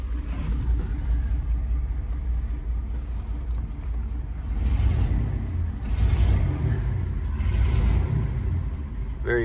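A 1938 Packard Twelve 1608 limousine from the 1930s accelerates with a deep, smooth engine rumble that swells and builds over several seconds, loud and close, with no talk.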